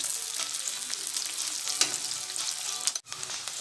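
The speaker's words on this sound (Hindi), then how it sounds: "प्याज को भी हम डाल के ऐसे ही फ्राई कर लेंगे" Onions fry in hot oil over a high flame, a steady close sizzle with constant crackle and a brief pan knock near the end.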